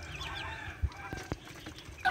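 Young Muscovy ducklings, local entok about two weeks old, peep and chirp in a shrill tangle at moderate distance, with a few soft thumps under the calls.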